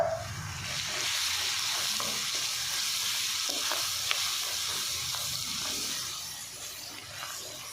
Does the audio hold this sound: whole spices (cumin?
yes